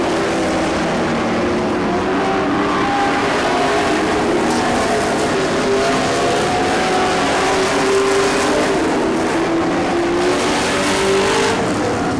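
Dirt track race cars roaring through the final corner toward the checkered flag, a loud continuous engine drone with rising and falling revs as the pack passes, steady and near with no talk.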